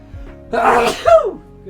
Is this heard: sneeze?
yes